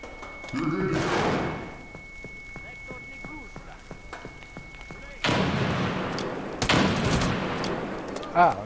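A grenade goes off in America's Army: Proving Grounds, a sudden roaring burst with a second sharp blast soon after, while players talk over the game noise.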